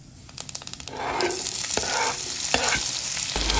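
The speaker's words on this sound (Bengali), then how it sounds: "এগুলো একটু নেড়ে চেড়ে হালকা ভেজে নেব" Whole cumin, chopped onion and chili sizzle in hot oil while a spoon stirs them, opening with a few sharp scrapes and then settling into a loud, close frying hiss broken by occasional clinks.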